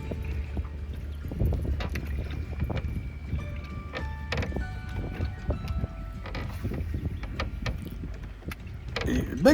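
Steady wind on Lake Okeechobee buffets a small aluminum boat, with low rumbling gusts, hollow knocks and clanks of the hull throughout.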